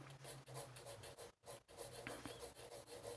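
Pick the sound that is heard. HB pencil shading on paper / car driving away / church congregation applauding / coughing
HB pencil shading on paper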